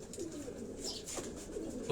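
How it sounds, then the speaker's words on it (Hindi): Pigeons kept at the Lahore home of the late Ustad Ikhlaq Ahmed Khan coo steadily at close range, a soft, throaty murmur of several birds overlapping with no talking. "तो ये वो कबूतर हैं"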